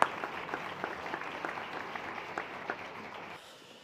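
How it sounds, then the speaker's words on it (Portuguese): Audience applause at an open innovation and entrepreneurship event, a moderate crowd clapping steadily before fading out near the end. "Fuerte aplauso para él."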